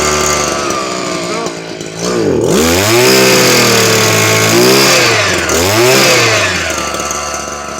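Racine Railroad 1 gas impact gun rated at 1255 ft-lbs runs loud and close with its small gas engine, the pitch rising and falling in several revving surges.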